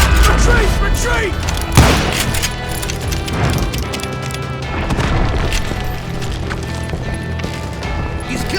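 Rapid gunfire from a video game shootout during a train robbery, a dense barrage of shots and booms running continuously throughout, loud and close, with a heavy crash near the start and shouting mixed in.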